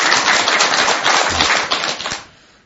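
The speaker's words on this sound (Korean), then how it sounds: "여러분 들 박수 한번 드리세요" Audience applause, a dense burst of clapping at close range that holds steady for about two seconds, then stops abruptly.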